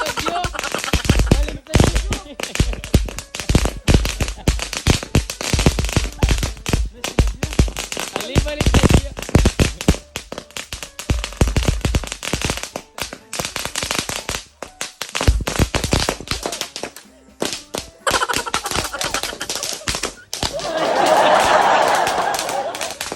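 Dense strings of firecrackers pop and crackle in rapid, irregular volleys for a long stretch, loud and close, with people talking and laughing amid the blasts before a hissing burst near the end.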